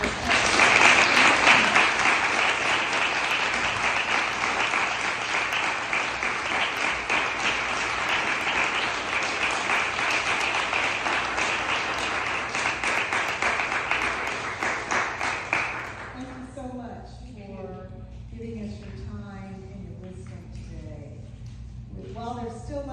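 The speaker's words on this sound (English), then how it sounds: "I would like you to give the entire panel a concluding round of applause." An audience gives a concluding round of applause for an elders panel at Penn Center on St Helena Island: dense, loud clapping sustained for about sixteen seconds, then dropping away as a voice begins talking.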